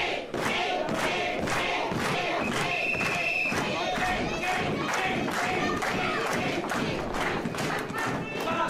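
A wrestling event crowd roars and cheers continuously, loud and dense, with rhythmic thumps from the ring beneath and a commentator talking over it.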